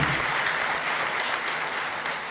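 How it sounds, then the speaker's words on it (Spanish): Congregation applauding at Mass in the San Miguel chapel in Areguá, a steady, dense clapping that fills the room evenly and loudly throughout. "un fuerte aplauso"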